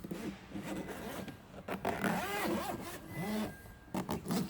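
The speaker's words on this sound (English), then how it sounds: "we use a paper clip and put it right through the hole here, and then we can unzip it all the way around" A zipper on a massage chair cover is worked open with a paper clip pushed through its pull hole, giving several short rasping zips in bursts, close and moderately loud, with faint voice-like murmurs between them.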